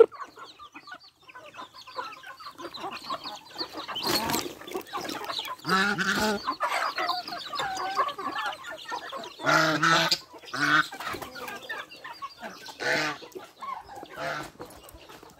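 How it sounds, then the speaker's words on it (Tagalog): Backyard chickens on a Filipino poultry farm cluck and squawk in bursts, several birds calling at once and near, with someone talking over them at times. "Yan po yung mga ating manok ngayon."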